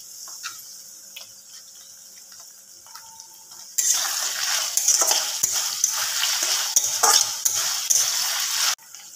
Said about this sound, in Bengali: এবার এই টমেটো সসটা দিয়ে মিক্স করব।